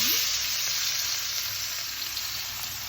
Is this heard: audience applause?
no